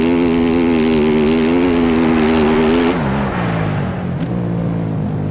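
Dirt bike engines in a Supercross race in the MX Bikes video game hold a loud, steady high rev, then drop in pitch as the throttle eases. A brief thin whine comes in near the end.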